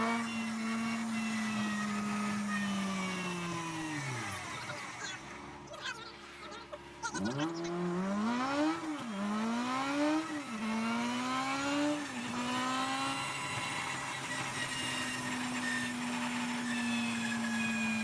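A Toyota AE86 engine idles and revs, its low hum rising and falling in several quick blips before settling back to a steady idle, with people talking nearby.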